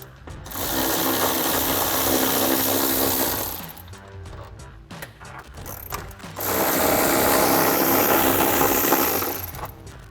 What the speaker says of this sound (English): we can remove these 2 12mm bolts at the bottom of our intake box